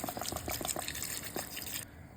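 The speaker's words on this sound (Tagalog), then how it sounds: "Magad ako ng tubig." Water pours into a pot of Filipino chicken rice porridge, a short close splashing and trickling fill that runs for about two seconds, with no talking.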